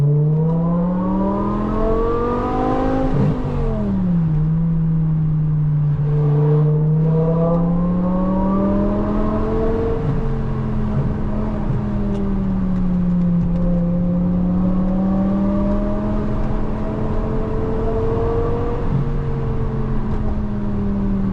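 The V10 engine of a BMW E60 M5 revs loud and close in a strong harmonic drone, rising and falling through several throttle blips and sustained holds with no talk over it.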